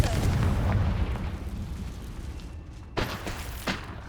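The Confringo fire spell explodes in Hogwarts Legacy with a heavy, close boom that rumbles and fades, followed by two sharper, smaller impacts near the end.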